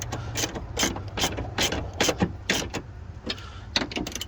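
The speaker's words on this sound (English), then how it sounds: "Then secure this down with the 13mm socket." A ratchet wrench with a 13mm socket tightens a battery hold-down bolt in a 2017 Chevrolet Silverado, giving quick rhythmic clicking bursts in rapid succession, close up and clear, with no talking.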